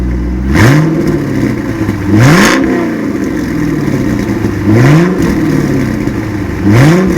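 A Corvette engine revs loudly several times, each rev climbing in pitch and falling back to a rumbling idle, close by and with no talking.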